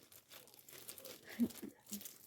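A plastic packet of candies crinkles quietly in a few short bursts of rustling, close but faint, with no talking.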